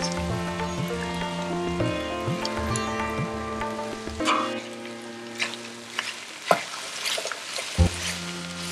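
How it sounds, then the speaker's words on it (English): Cabbage fries in a pan on medium heat as part of a mixed vegetable dish, a steady sizzle under sustained musical tones, with a few sharp stirring clacks near the end. "Then add cabbage and cook for another 2 to 3 minutes on medium heat."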